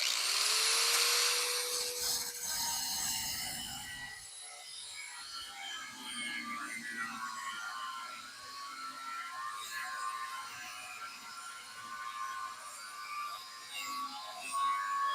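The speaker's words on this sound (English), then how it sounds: "you know it's getting serious when the grinder comes out" An angle grinder cuts through bolts on a barn-find 1967 C10 truck, starting with a loud, shrill whine. Harsh, scraping grinding of metal continues at a steady level throughout.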